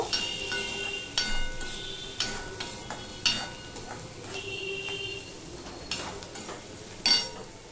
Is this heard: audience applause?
no